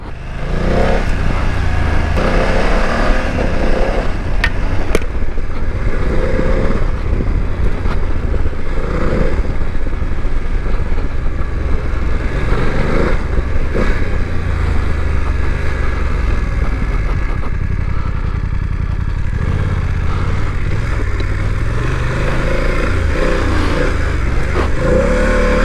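A 2024 BMW F900GS Trophy motorcycle ridden on and off road, its engine droning loudly and continuously throughout with steady wind rush and slight rises and dips in revs.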